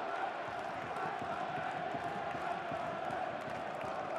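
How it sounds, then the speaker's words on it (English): A football crowd at Rodney Parade, Newport, roars through a cup tie against Leeds: a dense, steady wall of cheering and shouting that holds at one level throughout, with no single voice standing out. "the Rodney Parade crowd were in raptures"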